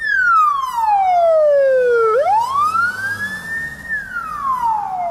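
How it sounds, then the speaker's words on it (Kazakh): An ambulance crew rushing to a call in Mangystau sounds a loud wailing siren that sweeps down, climbs back up and falls again, close and clear over faint road noise. "Мына жедел жәрдем бригадасы кезекті шақыртуға асығып барады."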